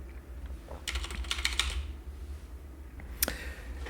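Quiet keystrokes clatter on a computer keyboard in a short cluster, followed later by a single sharper key press over low background hum.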